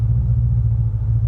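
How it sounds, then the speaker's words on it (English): Deep, steady idle rumble from a supercharged 1200 HP C7 Corvette Z06 engine, a low throbbing drone heard close and alone with no voices. "God, you just like barely tipping the throttle. You hear that supercharger."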